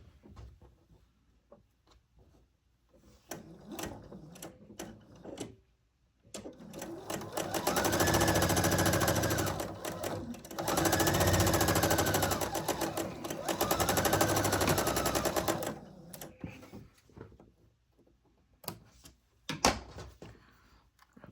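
A sewing machine stitches quilt pieces in several long, loud, rapid runs, separated by pauses with small clicks and handling noises, heard up close with no speech.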